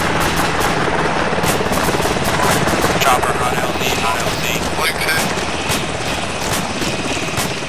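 Helicopter rotor in the military game ArmA2, a loud, steady throbbing drone that fills the whole stretch, with scattered crackles and faint voices mixed in.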